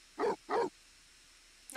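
Two short, quick barks from Nana, a dog in The Sims 4 life simulation game, close and clear against near silence, followed by a brief faint sound at the very end.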